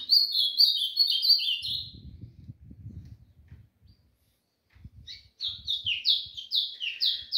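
Pet azulão and golinha songbirds chirp in rapid bright twittering phrases near the microphone, pausing briefly as low rustling and handling sounds pass, then the song resumes.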